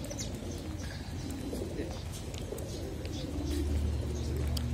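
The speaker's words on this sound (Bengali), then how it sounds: "কবুতর তো অভাব নাই।" Pigeons coo in a rooftop loft atop a ten-storey building, a steady low cooing from many birds under continuous background noise, with talk mixed in.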